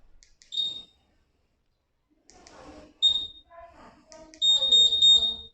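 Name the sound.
Honda Click 150i scooter remote answer-back beeping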